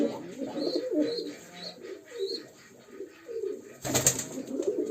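Tumbler pigeons coo in soft repeated low phrases close by, with faint chirps above and a brief rustle or flap near the end.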